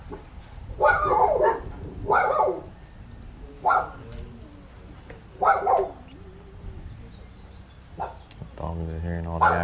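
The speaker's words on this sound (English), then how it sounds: "Dogs are hearing all the action out in the yard." Dogs bark out in a yard beside a garage where a Monza is being upgraded, several sharp bursts spaced through the stretch, fairly near, with a steady hum rising at the end.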